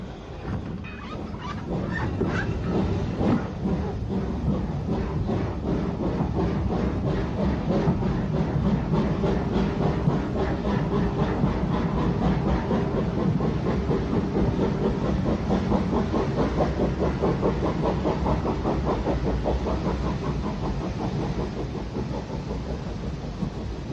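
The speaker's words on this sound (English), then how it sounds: "32 Bonchurch calls at St John's Road before pulling away for Pier Head" Steam locomotive 32 Bonchurch pulls out of St John's Road station on the Isle of Wight, a loud, continuous rumble of rolling wheels with a rapid clickety-clack rhythm and hiss throughout.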